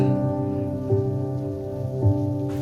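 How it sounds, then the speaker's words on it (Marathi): Water falling from the waterfall at Marleshwar, a steady, even rushing wash heard alongside a continuous low tonal drone, with no talking. "थोडं पाणी पडतंय वरून धबधब्यावरून."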